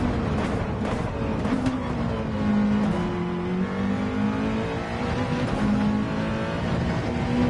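A race car engine in a racing video game hums steadily at high revs, the pitch wavering slightly as it climbs and eases, loud and continuous with no talking.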